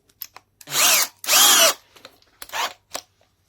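A Makita 8443D hammer drill set to hammer mode but with a faulty hammer action runs in short bursts, two loud whirring pulls followed by quicker, fainter blips, with no percussive rattle evident.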